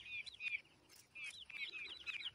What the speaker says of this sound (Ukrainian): Це менші курчата.